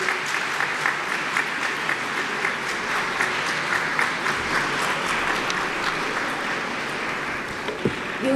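Continuous loud applause from a large crowd in a hall, dense clapping that stays steady throughout with no talking over it.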